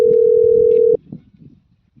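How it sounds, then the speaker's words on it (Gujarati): A telephone ringback tone plays as a steady single note for about a second, then cuts off, leaving faint room noise and brief murmurs. "સાહેબ રિંગ વાગસ"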